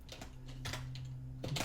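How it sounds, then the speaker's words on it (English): Soft, quick keystrokes on a computer keyboard, a few short clusters of taps close by and fairly quiet, with no voices. "Then just type in your title."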